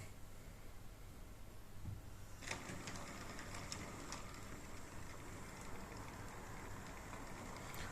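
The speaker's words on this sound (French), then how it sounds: "Et ça roule, vous voyez, les wagons ils roulent super bien." Model train wagons roll along a club layout track, a faint, steady mechanical whir and rattle with light ticking clicks that grows busier partway through.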